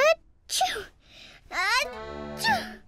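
A cartoon character's sneeze with a sharp "achoo" burst, surrounded by child-like voices and playful effect sounds in a winter children's show scene.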